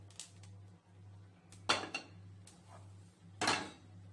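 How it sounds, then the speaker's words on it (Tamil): Roasted spice mix for idli-dosa chilli powder being tipped from a pan onto a plate, a few soft scraping and clattering knocks spaced apart, faint and close, over a low steady hum. "இதை எடுத்து ஒரு பிளேட்டில் அப்படியே கொட்டிக்கலாம்."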